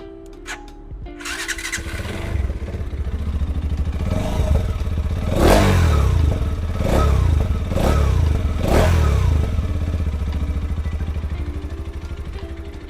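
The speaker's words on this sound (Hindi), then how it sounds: "दोनों ही गाड़ी का एग्जॉस्ट नोट सुन लेते हैं" A TVS Apache RTX 300 motorcycle starts up and settles into a close, loud idle, then gives several sharp throttle blips with a rasping exhaust note between steadier idling.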